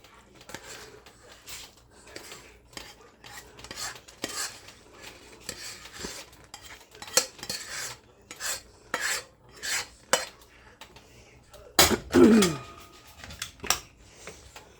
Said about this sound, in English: Now you mix it all together.